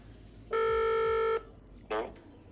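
A replica Apple Watch smartwatch (ZQ100 Series 7) gives a steady electronic tone for almost a second, then a short chirp follows, in a quiet studio with faint voices in the background.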